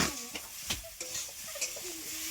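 Potatoes are sautéed in a pan, with repeated spatula scrapes and knocks over a light sizzle, close and fairly quiet.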